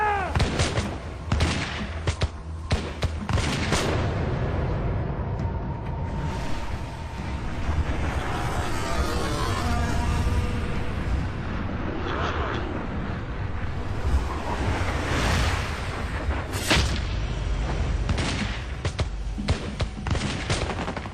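A musket volley fired by militia and British troops at Lexington and Concord: loud, crackling gunshots burst in clusters and scattered reports over a rumbling, windy background.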